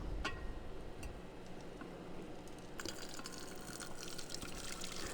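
Gold solution dripping through a filter into a beaker, a quiet steady trickle with faint irregular drip ticks, close up and alone.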